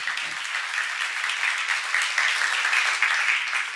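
Steady applause from a church congregation, dense clapping filling the whole stretch and swelling slightly toward the end.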